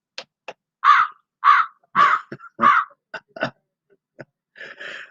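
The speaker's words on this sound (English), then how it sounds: "Funny thing to put for embarrassment, crows." Crows caw in a recorded sound effect played from a novelty button, a series of harsh, raspy calls in short bursts with brief gaps, clear and alone.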